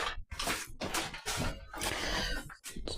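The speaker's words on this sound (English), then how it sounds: "So we've got to give it a good stir then." Coconut cake batter being stirred in a bowl, a continuous wet sloshing and scraping that swells and dips with each turn of the spoon, close and fairly loud.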